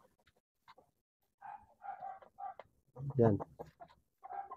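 Chickens cluck and call in a coop as they are fed. A louder squawk comes near the middle, and scattered clucks sound between a few spoken words.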